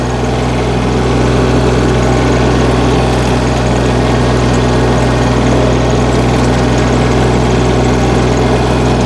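A walk-behind tractor's engine drones steadily and loudly nearby while rotary tilling wet soil, a constant vibrating hum with no pauses or talk.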